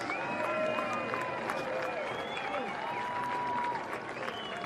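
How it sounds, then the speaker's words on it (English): Crowd at a West Texas A&M versus Western New Mexico football game applauding distinguished alumni, steady dense clapping across the whole stretch with faint stadium tones and crowd murmur underneath. "Please give a round of applause to the 2023 class of distinguished alumni."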